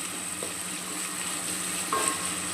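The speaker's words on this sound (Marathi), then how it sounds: "टमॅटो पण आपण चांगला परतून घेऊया।" Tomatoes sautéing with onions in a pan for vegetable pulao give off a steady, soft sizzle throughout, with a faint clink of the stirring utensil near the end. Nobody speaks.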